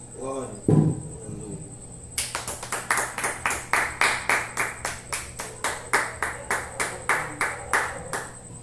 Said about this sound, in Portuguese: Aplauda o Senhor Jesus pela sua palavra